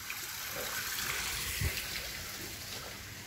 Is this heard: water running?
yes